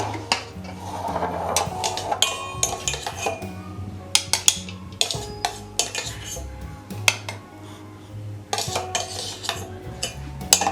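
A metal spoon clinks and scrapes repeatedly, scraping paste into a mixer jar, in irregular bursts of sharp taps and rasps close by.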